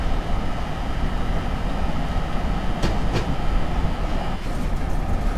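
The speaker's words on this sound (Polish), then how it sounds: "A oto rzut oka na wagony, jakie ciągnie nasza lokomotywa" A locomotive hauls freight wagons on the North Jersey Coast Line in Train Simulator, a steady loud rolling rumble with a few sharp rail clicks partway through, no voices.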